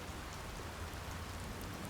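Steady, soft rain falls in the point-and-click adventure game Secret Files 2: Puritas Cordis, near a bridge, a constant even wash of drops with no other sounds.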